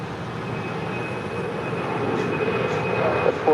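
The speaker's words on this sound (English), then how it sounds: "Delta Airlines Flight 412 coming in from Atlanta in the A321" A Delta Airlines Airbus A321 airliner arriving at LAX produces a steady, distant broadband engine roar that swells gradually louder toward the end, with no voices.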